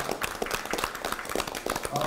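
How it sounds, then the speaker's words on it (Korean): A party meeting audience claps for four regional governor candidates at a Democratic Party supreme council gathering, a steady, fairly close patter of many hands running throughout with a voice speaking over it. "다시 한번 네 분은 후보자 꼭 승리하시라고 큰 박수 한번 부탁드립니다"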